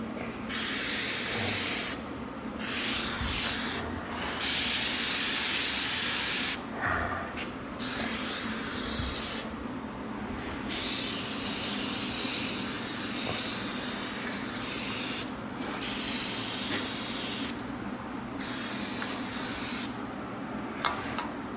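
Cleaner sprayed from an aerosol can to prepare a metal surface for a dye penetrant crack test during bail repair on a CAT 627 scraper: steady, close hissing bursts that stop and start with short pauses, and no talk.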